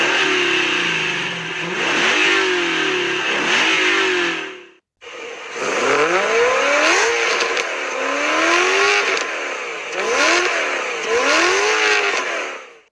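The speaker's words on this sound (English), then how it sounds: "let's hear a sound comparison between these two engines." Car engines rev hard, rising and falling in pitch with repeated accelerations, loud and close, with a brief gap between two runs.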